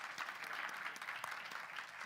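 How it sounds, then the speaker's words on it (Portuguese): A church congregation at an Easter Sunday service claps for visitors, producing a steady, fairly faint wash of applause that carries evenly throughout. "se você é da igreja, você quiser dar uma salva de palmas aí para quem nos visita"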